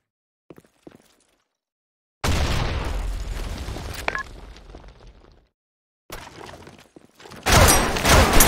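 Grenades explode in Counter-Strike: one loud, booming blast with a long, crackling tail, then after a pause a second sharp burst. Faint clicks come before the first blast.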